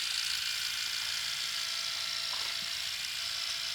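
Small electric motor of a super-low-geared Marlin RC crawler whirring steadily at full throttle, a constant high-pitched buzz that holds near and even without a break.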